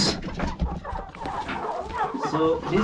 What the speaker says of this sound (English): this is our chicken house